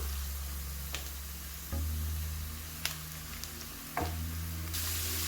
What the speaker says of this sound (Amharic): መጥበሻዬን አግዬ ሽንኩርትና ዘይት አንድ ላይ ያቁላላሁኝ ነው።